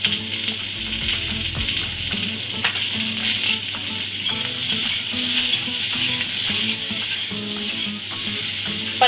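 Paneer masala with salt, turmeric, green chillies and paneer sizzles steadily in a kadai, with a spatula stirring and scraping through the continuous frying hiss, close and fairly loud.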